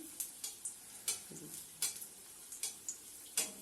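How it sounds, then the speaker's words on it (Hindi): Malai kofta balls made of paneer, potato and khoya fry gently in oil, giving a soft sizzle punctuated by regular light taps and scrapes of a spoon as oil is ladled over them. "तो थोड़ा सा फ्राई करेंगे, इसके ऊपर इस तरीके से तेल डालते रहेंगे।"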